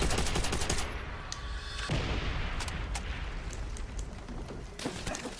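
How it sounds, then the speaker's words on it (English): Dense, continuous battlefield gunfire and booming artillery blasts from the World at War video game, with rapid overlapping shots and heavy impacts running throughout. "That artillery really fucks you up sometimes."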